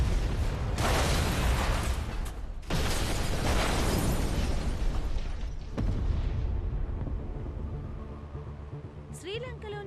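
Bomb explosions in a film scene: heavy, booming blasts with rumbling tails, arriving as three loud bursts in succession, with voices partly beneath.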